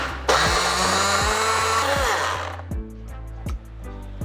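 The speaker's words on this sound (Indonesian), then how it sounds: "Bawang putih, cabai rawit, air, kita blender" A blender whirs loudly for a couple of seconds blending garlic, bird's eye chilies and water for chili sauce, then winds down and stops, followed by a few soft thumps.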